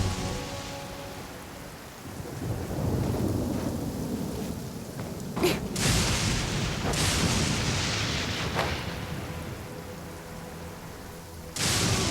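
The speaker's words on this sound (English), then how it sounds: "Quite a downpour." A heavy downpour in Genshin Impact hisses steadily while several loud thunderclaps crack and rumble, with sharp strikes spaced a few seconds apart over the rain.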